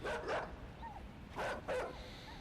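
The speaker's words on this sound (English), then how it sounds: "Run away from the dog. That will eat me alive if I don't." A dog in the video game Inside barks in two pairs of sharp, mid-loud bursts, with a short whimper-like sound between them over a low background rumble.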